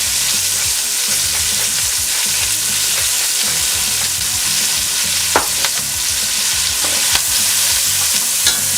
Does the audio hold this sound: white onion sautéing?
yes